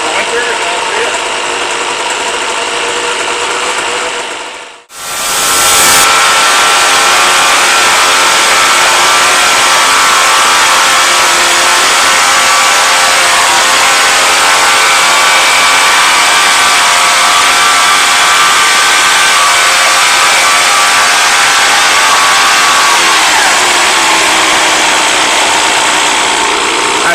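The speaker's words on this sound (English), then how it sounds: "I'll let it run until it's out of gas" A Hangkai 3.6 hp outboard motor idles steadily with no propeller fitted, a continuous close mechanical drone that cuts out briefly near the start and then runs on evenly.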